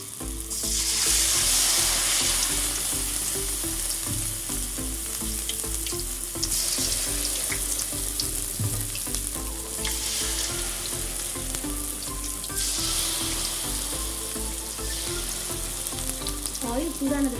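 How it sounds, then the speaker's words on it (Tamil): Cauliflower florets deep-frying in hot oil for restaurant-style gobi Manchurian, a loud, steady bubbling sizzle that holds throughout with occasional crackles and no talking. "இப்போ நம்ம காலிஃப்ளவர் போட்டு ஃப்ரை பண்ணி வச்சுக்கலாம்."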